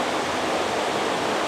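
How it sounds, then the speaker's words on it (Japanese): Mountain stream rushing past an open-air stone hot spring bath at an onsen in Aizu Higashiyama, Fukushima, a steady, dense broadband roar of flowing water, close and continuous with no gaps. "外の湯川の渓流が豪快に見えていて"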